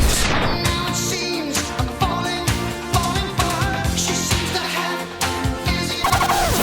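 Radio station hook sequence promoting three upcoming tracks, quick punchy snippets of songs cut together with abrupt transitions and hits, loud and busy from start to finish.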